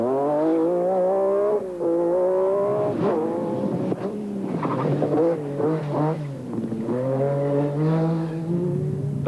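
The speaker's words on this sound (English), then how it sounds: "McRae got the chance to show the flat-out approach on the opening 1-mile spectator stage in Bellahouston" Rally car driven flat out on a one-mile spectator stage at Bellahouston Park, Glasgow, during the 1986 Scottish Rally, its engine loud and close, rising and falling through repeated high revs and gear changes.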